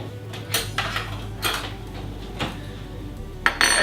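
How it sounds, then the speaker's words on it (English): A metal spoon scrapes and clinks against a bowl of vegan protein cookie dough, several distinct close scrapes and taps at an uneven pace over low background hum. "I'm just going to grab another spoon and we'll create the 5 jumbo cookies out of there"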